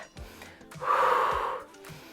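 A hard, breathy exhale blown out during a circuit-training workout, swelling loud for about a second in the middle, with softer breaths before and after.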